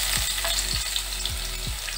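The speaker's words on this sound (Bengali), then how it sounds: "চাইনিজ রান্না কিন্তু হাই ফ্লেমেই হয়, হালকা করে ভেজে নেব" Chopped garlic hits hot refined oil over a high flame and sizzles loudly and steadily, a continuous, close frying hiss with no voices.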